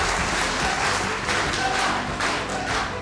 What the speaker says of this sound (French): Après une salve d'applaudissements soutenus